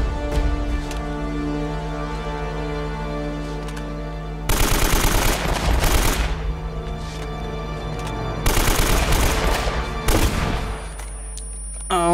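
Sniper fire in an Uncharted video game: two loud bursts of gunfire about four seconds apart, each a cluster of sharp cracks, with a quieter steady hum and ambient tones between them.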